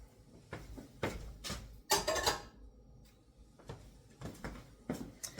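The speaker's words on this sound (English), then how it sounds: "I'm going to go ahead and I'm going to remove this bowl." Stainless steel mixing bowl lifted off an Ankarsrum stand mixer, giving several short metallic clunks and knocks, with one louder clattering rattle near the middle, set against quiet kitchen background.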